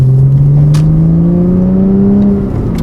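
A Porsche Cayman drives along an undulating country B road, its engine giving a loud, close, continuous drone whose pitch climbs steadily as it pulls, with no talking.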